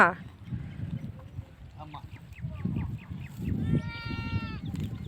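A young goat bleats nearby, one clear wavering cry near the end, while people talk quietly in the background.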